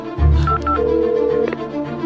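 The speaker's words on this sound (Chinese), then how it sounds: "赶紧打电话问问。" Telephone keypad dialing tones, a few short steady beeps in quick succession, loud and close, over a low background hum with no talking, as someone calls the village chief about a demolition compensation payment.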